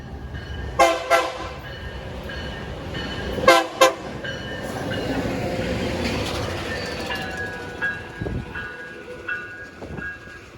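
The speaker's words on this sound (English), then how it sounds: "we got a CSX train down the line" CSX light-power locomotives running without cars past Depew Amtrak station, several loud horn blasts in bursts over a steady engine rumble, followed by lower rolling pulses as the units pass close by.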